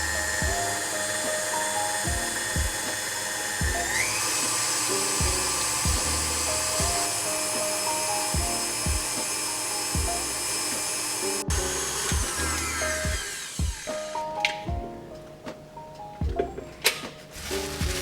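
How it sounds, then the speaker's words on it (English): An electric whisk whips double cream with white chocolate filling and crushed biscuits for cookies n cream cupcakes. It gives a steady, high motor whine over repeated knocks against the bowl, and the pitch changes partway through before the whisk goes rougher and stops. "continue to whisk until soft peaks form"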